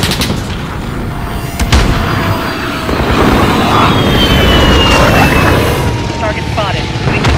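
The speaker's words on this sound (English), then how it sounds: "Let's get close air support!" Close air support strike in Call of Duty: Modern Warfare, with loud bursts of aircraft gunfire and a sustained roar of aircraft over the battle, heavy and near, with voices in the mix.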